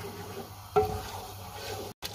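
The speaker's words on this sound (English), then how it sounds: "You can see I've been frying for this masala for 7 minutes now." Masala for chicken pasta frying in a pan while being stirred, a low steady sizzle with a spoon scrape near the start and a brief dropout near the end, no talk.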